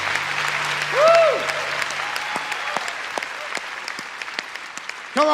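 A congregation claps and applauds at the 2015 Los Angeles Religious Education Congress, a dense, steady wash of many hands from a large crowd, with a brief voice calling out over it and another at the end.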